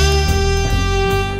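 A short GarageBand jazz jingle plays as a loud, bright ensemble phrase with sustained chords and punchy accents, no voices.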